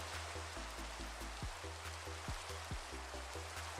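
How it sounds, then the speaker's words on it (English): Steady rain in Minecraft, a constant soft hiss of falling drops with faint low periodic tones beneath, quiet and unbroken, with no talking. "It's just gonna be raining."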